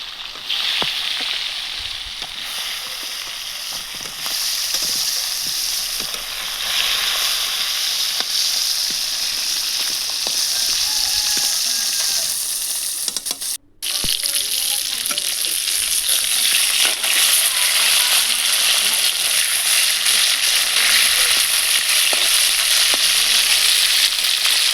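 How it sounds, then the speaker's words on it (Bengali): Fish fries in a wok over a village wood-fired stove, giving a loud, dense, continuous sizzle with stirring scrapes throughout and one brief dropout partway through, close up and without speech. "বাকি যে মাছগুলো আছে কড়াইয়ের মধ্যে ছেড়ে দেবো"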